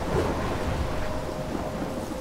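A thunderstorm in Life is Strange fills the scene with a steady roar of rain and wind under low, rolling thunder, loud and continuous, with no talking.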